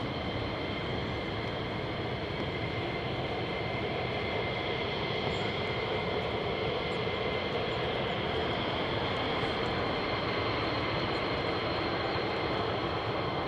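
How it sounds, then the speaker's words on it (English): A fighter jet engine at RAF Lakenheath roars with a continuous, loud, steady turbine whine and broadband rush, holding unchanged throughout with no talk. "Everything ingested into that engine is pure, unadulterated jet power."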